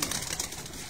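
Pearl-marked fancy pigeons in a Rawalpindi loft give a steady, soft cooing murmur against a constant background hum, fairly close and unbroken for the whole second.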